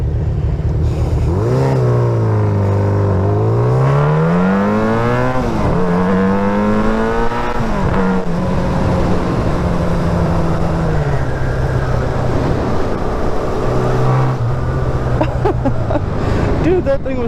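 A three-wheeled motor vehicle with handlebars drives past close by, its engine note loud and steady, climbing and falling in pitch as it revs and passes.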